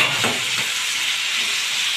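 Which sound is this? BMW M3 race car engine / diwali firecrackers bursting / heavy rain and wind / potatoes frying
potatoes frying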